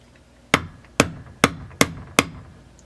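A hammer taps a deep socket to drive a bushing into a Stihl MS440 chainsaw crankcase, five sharp metallic knocks at a steady, slightly quickening pace, close and clear with quiet between strikes.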